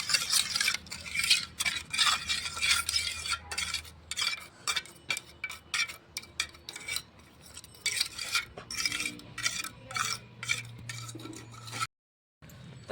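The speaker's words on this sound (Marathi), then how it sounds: "अगोदर चमच्याने हलवायचं, नंतर हाताने हलवून घ्यायचं." A spoon stirs a homemade hair mixture in a bowl, making continuous close scraping and clinking strokes in an uneven rhythm, with a brief silence near the end.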